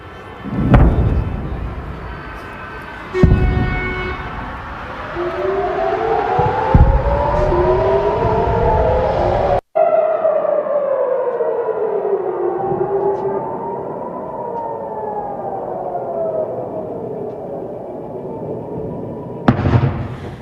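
A loud wailing air raid warning siren in Haifa, Israel, during an Iranian drone attack, rises and falls in long sweeping tones, with a couple of sharp bangs near the start and a brief cut midway.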